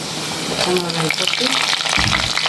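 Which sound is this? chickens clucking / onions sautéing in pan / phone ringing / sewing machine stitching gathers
onions sautéing in pan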